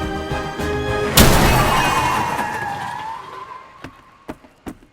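A truck crash hits with a sudden loud impact and shattering burst, then a long fading scrape and screech, followed by a few scattered sharp knocks of falling debris.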